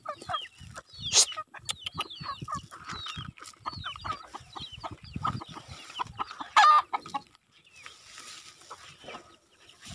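Chickens on a rural Philippine homestead cluck and squawk busily at feeding time, a dense, close chorus of overlapping calls with brief sharper cries and a quieter tail at the end.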